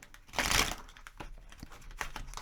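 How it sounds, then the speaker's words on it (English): Tarot cards are shuffled by hand in a quiet room, giving a loud, dense riffle burst, then softer, scattered card slaps and rustles with a few sharper clicks. "I can't shuffle properly."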